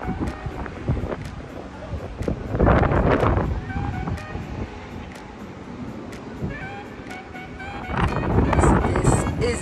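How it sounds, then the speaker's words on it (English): Gusty wind on an oceanfront hotel balcony in Virginia Beach buffets the microphone in rumbling bursts, rising and falling, with a stronger blast midway and again near the end. "It's so windy, my hands literally shaking."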